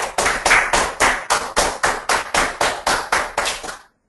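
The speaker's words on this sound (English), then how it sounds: "A big round of applause for all of you guys for participating." Sharp claps in a steady, even rhythm, about thirteen in quick succession and close by, stopping abruptly at the end, as applause for participants in an online GRE quant class.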